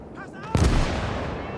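A cheap artillery barrage fires in a WWII video game battle: one sharp, heavy boom cracks out and rolls into a long rumbling decay, just after a faint snatch of voice.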